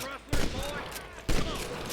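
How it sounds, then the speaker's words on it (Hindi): Enemy gunfire in the Red Dead Redemption video game, two sharp, loud gun blasts about a second apart, each followed by a ringing tail over steady game ambience. "तो कोई दुश्मन अभी यहाँ बचा ही हुआ था जो हमारे ऊपर लगातार गोलियां चला रहा।"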